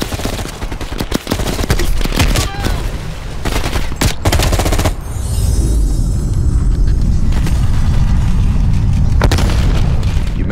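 Gunfire and explosions from Call of Duty: Black Ops Cold War, a Vietnam firefight against a VC attack near a village bridge: dense, loud rapid shots and booming blasts throughout, easing into heavy rumbling battle ambience after the midpoint.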